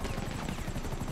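Helicopter in Grand Theft Auto V, a loud, steady rotor chop with a continuous engine whine, close and constant throughout, no voices.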